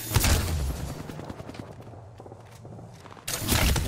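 Gunfire in Apex Legends during a firefight, with dense bursts of shots at the start and again near the end and a quieter stretch of scattered shots and movement between them.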